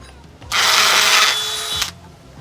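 A power drill pre-drills into wood in one short burst, about a second and a half, loud and close before stopping.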